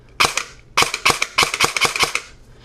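A G&P Sentry airsoft gun on a 7.4 volt battery fires in quick bursts, a single shot followed by rapid strings of sharp clicking pops, loud and close.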